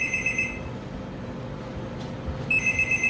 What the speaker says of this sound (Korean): 잠시 전화가 왔었네요.